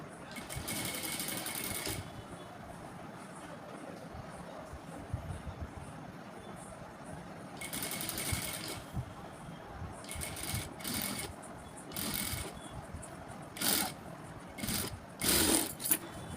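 A sewing machine stitches a buff sleeve lining, its steady whirring running throughout at a modest level, broken by several short, brighter bursts of faster stitching toward the end.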